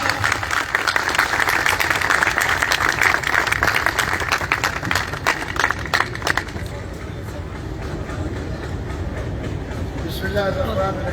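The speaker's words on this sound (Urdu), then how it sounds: "بھرپور تالیوں میں جناب ظفر زمان رانجھا صاحب" A crowd at a train inauguration ceremony in Malakwal applauds to welcome a speaker to the dais, with dense clapping that is loud at first and thins out after about six seconds, and talk mixes in.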